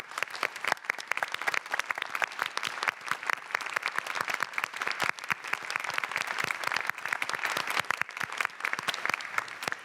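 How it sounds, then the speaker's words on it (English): Sustained applause from an audience at a closing session of a House of Delegates, dense steady clapping throughout with no talk. "You can give them all a round of applause."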